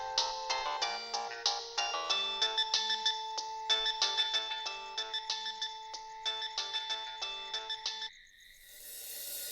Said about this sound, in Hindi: करण का फोन आ रहा है, उठा लो।